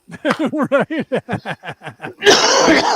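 A rapid string of short, rhythmic bursts, like hacking coughs or chuckles, about a dozen in a row, followed by a louder harsh rasping burst.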